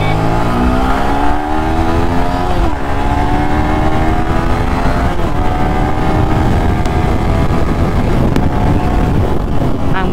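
A modified Yamaha R15 motorcycle engine revving hard while riding, loud and continuous with rising and falling pitch sweeps and heavy wind rush over the microphone, no talking.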